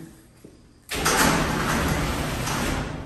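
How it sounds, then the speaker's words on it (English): A residential garage door opener starts up abruptly and runs steadily with a loud broadband mechanical rumble, the motor drive continuing without pause. "garage door opener works, which is awesome"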